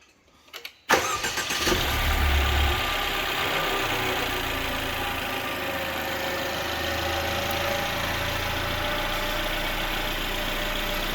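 A Mercedes W204 with the 274 engine cranks briefly and catches, then settles into a steady, close idle with a low even hum.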